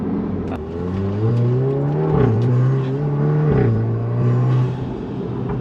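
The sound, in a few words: Mk7 Golf R stage 2 exhaust and turbo accelerating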